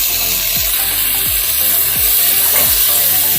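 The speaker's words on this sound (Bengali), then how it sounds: "নাড়াচাড়া করে দিচ্ছি।" Egg chilli stirred in a pan with soy sauce and tomato sauce, a loud steady sizzle with rhythmic scraping strokes about every second and a low hum beneath.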